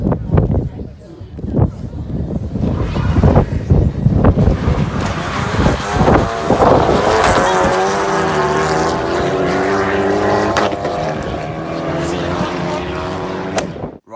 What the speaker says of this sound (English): So that is the Megane RS250 against the Focus ST